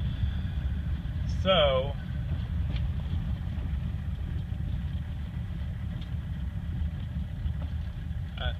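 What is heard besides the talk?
1985 Mercedes 300D turbo diesel engine while driving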